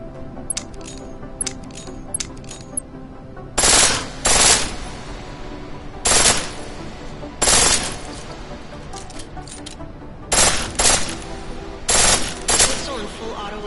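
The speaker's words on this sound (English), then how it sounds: "Pistol in full auto will take down targets fast, but it'll burn through your ammo." Full-auto pistol gunfire in Deus Ex: Mankind Divided, loud rapid bursts, each lasting about half a second, spaced across the stretch, with sharp lighter clicks and clinks near the start.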